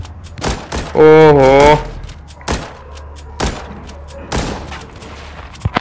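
Gunshots ring out in The Walking Zombie 2, a zombie shooter game, as a series of sharp, loud, irregularly spaced bangs. A brief exclaiming voice cuts in between the shots.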